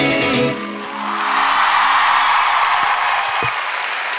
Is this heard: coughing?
no